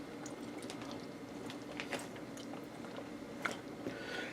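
Soft, close, wet chewing of tender mushrooms in garlic mushroom gravy served with pork chops, quiet and continuous with small squishy bites and no talking.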